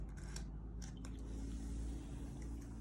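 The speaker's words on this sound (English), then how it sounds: "I want to show you how the bath bomb reacts when you put it in your bath" A bath bomb dropped into warm water in a sink fizzes with a soft, steady hiss and faint crackling bubbles, plus a few brief wet squishes, all quiet and close.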